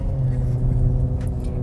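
A car racing a Tesla on a road near PCH, a continuous low engine rumble passing close for a moment, with faint voices in the background.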